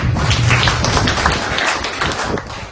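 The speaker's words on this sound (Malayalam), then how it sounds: "എല്ലാവർക്കും ഒരു കയ്യടി കൊടുക്കാം." An audience at a Buds day celebration for children with disabilities in Angamaly municipality applauds the parents, producing loud, dense clapping close by that thins toward the end.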